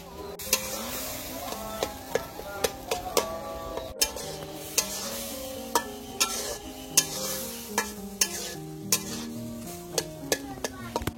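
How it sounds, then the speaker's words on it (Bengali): Masoor lentils sautéed in a pan with spices, scraped and stirred in a quick regular rhythm of metallic spoon strokes over a low sizzle, close and clear with music playing underneath. "ডালটা আমি খুব ভালোভাবে কষে নিচ্ছি"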